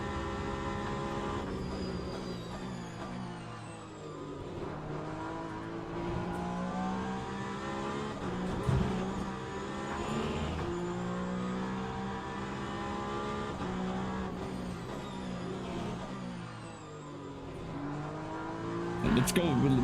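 A hybrid race car in a sim racing game drives with a steady engine drone and rising and falling whines from the hybrid regeneration system, continuous and moderately loud as it shifts through speeds.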